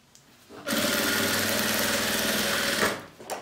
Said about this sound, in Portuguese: só passo a costura aqui, passo em cima da alça também